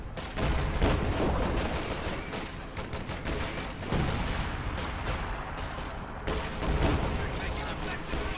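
Priest self-propelled artillery firing in a WWII real-time strategy battle, dense continuous gunfire and explosions layered with heavy booms, loud and sustained throughout.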